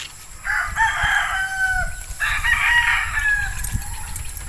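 A rooster crows twice in long drawn-out calls, close and loud, with young chickens clucking and farmyard noise underneath.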